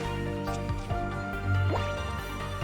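Rain Splash water attack effect from the Pokémon TCG Pocket card game: a short burst of watery dripping and splashing sounds, moderately loud, with a brief rising bubbly gurgle near the middle over steady game background tones.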